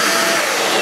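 A Hoover Jovis 550-watt corded handheld vacuum cleaner runs close and loud, a steady unbroken whoosh of motor and airflow for under a second with no talk.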